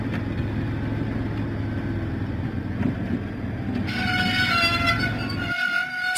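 The diesel engine Diesel rumbles along in a Thomas and Friends train video game, a steady low engine drone. Brighter game tones join partway through, and the rumble drops out near the end.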